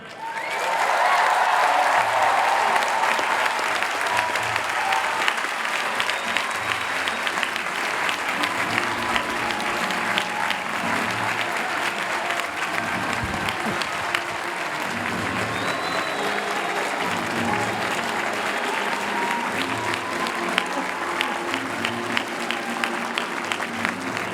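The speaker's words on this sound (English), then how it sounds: "We couldn't hear you with the cheering" A large crowd at the Harvard University commencement morning exercises applauds and cheers continuously for over twenty seconds, a loud, dense wash of clapping from start to finish.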